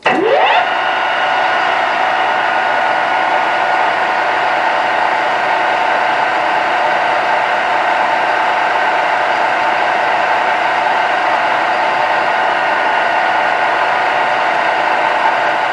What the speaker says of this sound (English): we're actually going to polish the crown.